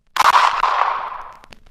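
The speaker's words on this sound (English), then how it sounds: "A gunshot shattered the pre-dawn silence," A single gunshot effect in a cosmic horror audiobook, one sharp loud crack that decays into a long fading echo over about a second, with faint clicks near the end and no voice.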